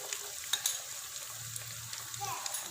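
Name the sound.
ginger garlic paste frying in spiced masala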